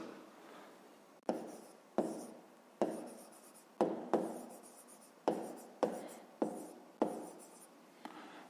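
A pen writes out a fifth-grade math solution on paper, giving a close, quiet scratching that comes in repeated short strokes, each starting with a soft tap, with no speech.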